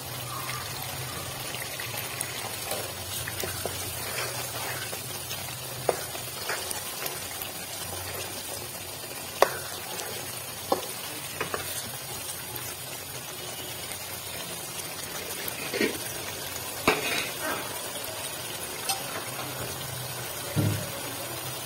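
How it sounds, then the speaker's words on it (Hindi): Chicken curry base sizzles and bubbles in a pan, a steady close frying hiss with scattered pops and light clinks throughout. "थोड़ा सा इसे और फ्राई करेंगे हम।"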